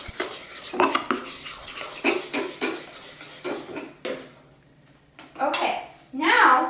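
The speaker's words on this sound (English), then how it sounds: "I'm going to mix this up real good." Whole wheat brownie batter with flour and cocoa being stirred in a bowl, giving repeated scraping, clinking utensil strokes up close in an uneven rhythm, with a pause near the end before louder scraping returns.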